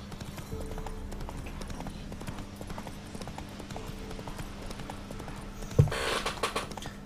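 Horse hooves clip-clop at a steady walking rhythm in The Witcher 3, a free black horse moving over ground under a low game hum, with a brief louder burst near the end.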